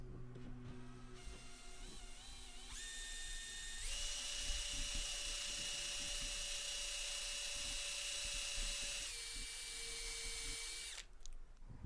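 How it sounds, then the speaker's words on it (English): A power drill whines at a steady pitch while drilling a pilot hole in wood, shifting speed partway through, running for several seconds before cutting off abruptly. "here I'm just finding the centre and drilling a pilot hole"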